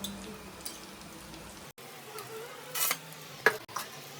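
Ghee added onto tandoori chicken in a pan for smoky flavor: a low background hiss broken by a short, loud sizzling burst and a quick clatter, heard close with no talking.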